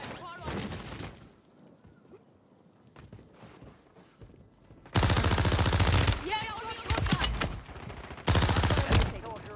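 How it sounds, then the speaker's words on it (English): A sniper rifle shot rings out during a Call of Duty Warzone match, set among loud, bursty gunfire that erupts suddenly and returns in repeated heavy blasts, with a voice talking in the background. "Dude, did I just get sniped?"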